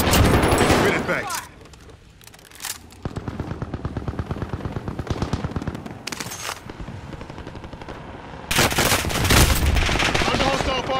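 Rapid automatic gunfire from Call of Duty Warzone, with bursts and sustained machine-gun strings that rise to heavy, loud volleys near the end, mixed with game voice callouts.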